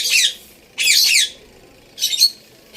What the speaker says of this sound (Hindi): तोते की जब आवाज़ आती है ना तो मेरी आवाज़ कम हो जाती है